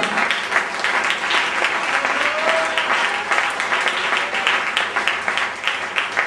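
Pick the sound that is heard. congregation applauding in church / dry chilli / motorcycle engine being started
congregation applauding in church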